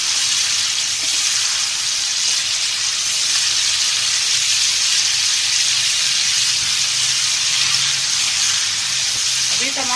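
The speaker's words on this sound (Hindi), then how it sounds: "सब डालने के बाद अच्छी तरीके से हम मसाले को भून लेंगे।" Spices fry in hot oil in a pan for radish bhujia, giving a continuous close sizzle that holds steady throughout with no talk.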